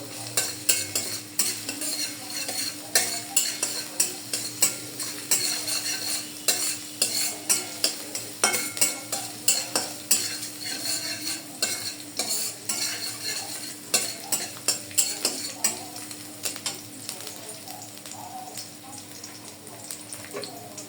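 Chopped ginger and garlic frying in oil in a pan for a homemade Thai soup, a soft steady sizzle punctuated by repeated scraping and stirring taps of a utensil against the pan.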